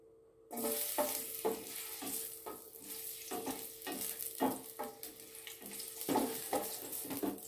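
Ginger drops into hot oil and sizzles loudly, a crackling fry that begins abruptly and runs on, broken by regular stirring scrapes and clatters close by.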